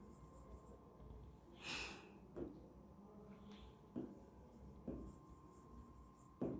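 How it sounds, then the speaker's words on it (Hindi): A teacher handwrites a topic on a board in a classroom lesson, giving soft, faint scratching strokes in short bursts, with quiet breathing between them. "ये पहले मैं यहाँ लिख देती हूँ टॉपिक"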